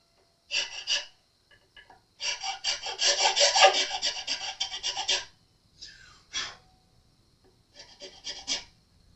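A nut file rasps in short strokes through a string slot on an Epiphone ES335 guitar nut, with close, dry scraping bursts, one long run of strokes and brief gaps between them.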